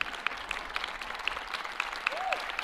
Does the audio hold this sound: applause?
yes